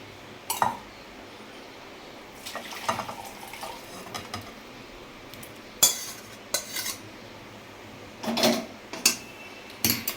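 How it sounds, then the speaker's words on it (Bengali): Cooked mango and poppy-seed paste dish being scraped and poured from a pan into a serving bowl, with scattered metal spoon clinks and scraping knocks at irregular intervals over a quiet kitchen background. "এবারে আমি ঢেলে দিচ্ছি একটা পাত্রে"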